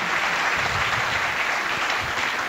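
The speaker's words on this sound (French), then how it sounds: "On peut vous applaudir." An audience applauds at a corporate awards ceremony as a flooring company receives a strategic-development trophy, dense continuous clapping at even loudness for the whole stretch with no talk.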